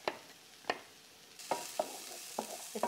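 Mushrooms frying in a pan as a frittata starts, with soft sizzling under a series of sharp scraping stirs of a utensil against the pan, about half a dozen strokes spaced irregularly.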